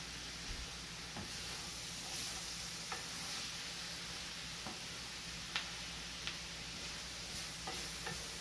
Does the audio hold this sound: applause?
no